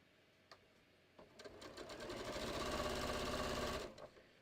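A sewing machine stitches a diagonal seam on a patio cushion cover, starting with a few isolated clicks and then running in a fast, even burst of about two and a half seconds, close by and alone.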